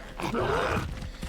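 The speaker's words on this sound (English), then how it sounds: "Oh, it's a pig." A pig grunts in a video game set among dinosaurs, one short low rough grunting call lasting about a second, fairly close and alone.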